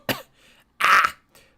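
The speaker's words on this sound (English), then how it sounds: "Coughing." A single person coughs and clears their throat in a few short, close bursts with quiet gaps between, no talking around them.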